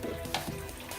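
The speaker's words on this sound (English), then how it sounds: "Just cooking some bacon." Bacon sizzles in a pan at close range, a steady crackling fry with small pops, faint and brief with no one talking.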